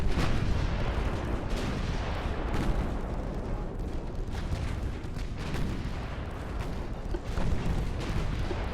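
Naval gunfire from pre-dreadnought battleships in Ultimate Admiral: Dreadnoughts forms a dense, continuous rumble of overlapping heavy booms and distant salvos, loud and unbroken throughout.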